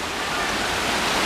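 Natural spring water at Ojo de Agua flows in a steady, dense, close rushing wash with no pauses and no voices.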